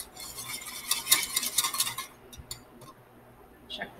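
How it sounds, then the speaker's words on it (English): Quiet, steady scraping and clinking of a whisk against a pan of gravy over a soft sizzle, fading into a few light taps. "you want to be whisking it constantly while it's doing that"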